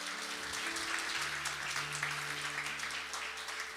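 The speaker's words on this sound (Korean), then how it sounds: "우리 귀한 간증해 주신 장로님께 큰 박수로 한번." A church congregation claps for an elder at a Sunday worship service, a soft, steady patter of applause heard at a distance over a sustained low organ or keyboard tone.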